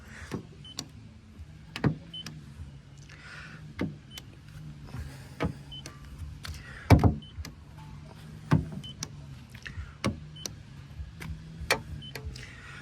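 Electric folding side mirrors on a 2021 Volkswagen Multivan T6.1 Liberty 2.0 diesel, heard as a faint motor whir that repeats several times, broken up by sharp clicks and a louder clunk near the middle.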